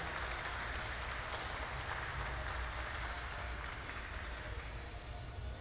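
A live audience at a glass museum hot shop applauds the glassblowing crew, sustained clapping from a crowd that holds steady and fairly even throughout, heard at moderate distance.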